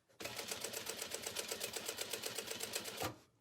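A sewing machine stitches a canvas tote bag in one steady run of rapid, evenly spaced mechanical clatter lasting about three seconds, close and moderately loud.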